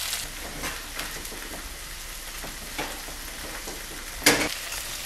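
Duck breast and legs frying in a pan, a steady close sizzle with occasional spatters and one louder crackling burst near the end, no talk.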